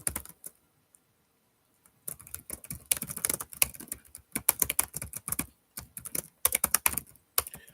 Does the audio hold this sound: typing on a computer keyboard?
yes